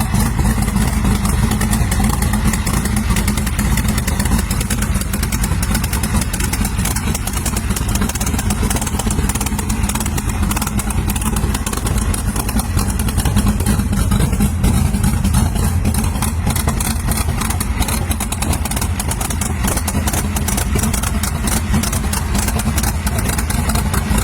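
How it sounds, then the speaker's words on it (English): A 1928 Ford Model A Tudor sedan hot rod with a 354 Hemi V8 bored out to 371 cubic inches runs throughout, giving a loud, steady, close rumble with no voices. "This 1928 Tudor sedan is equipped with a 354 Hemi V8 engine, reportedly bored out to 371 cubic inches."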